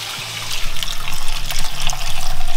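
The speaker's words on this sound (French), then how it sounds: "on va lui rajouter notre fameux bouillon de volaille" Chicken broth poured into a pot over a butter and flour roux for a cauliflower velouté, a loud close splashing, gurgling liquid stream lasting a couple of seconds.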